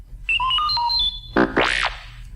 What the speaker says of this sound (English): You will know it is time to turn the page when you hear R2-D2 beep like this.